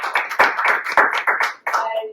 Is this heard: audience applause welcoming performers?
yes